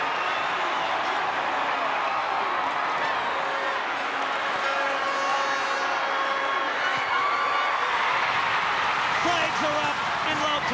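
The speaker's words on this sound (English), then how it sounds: "Here the crowd thump to their feet." A stadium crowd roars steadily at a Super Rugby Pacific 2023 match between the Fijian Drua and the Crusaders in Lautoka. The cheering forms a dense, continuous wash under a commentator's voice.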